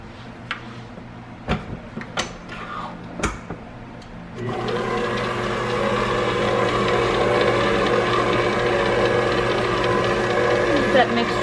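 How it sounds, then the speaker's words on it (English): A few sharp clicks and knocks come first, then an electric mixer starts and runs at a steady loud whir while blending banana cream pie filling for no-bake honey graham bars. "Then we're going to put the blender back down."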